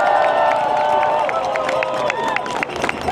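A large outdoor crowd at a rally in Boston cheers and applauds continuously, with loud, dense clapping and shouting throughout.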